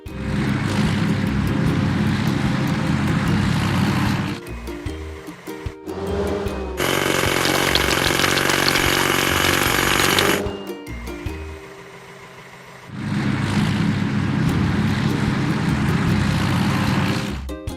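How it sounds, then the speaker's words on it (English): Video game sound: heavy mechanical pounding and grinding in sustained bursts, with a loud, dense hammering stretch in the middle, like a hydraulic breaker cracking rock. "Let's crack the biggest rocks."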